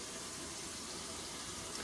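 Tap water runs steadily into a 2-cup measuring cup, a soft continuous rushing fill with no pauses or talk.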